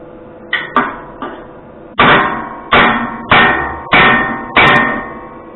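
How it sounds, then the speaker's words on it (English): Hammer striking a tack in a garden setting: three light taps followed by four heavier, evenly spaced blows, each sharp and close with a brief ringing decay, no talking. "I'm gonna find my hammer real quick."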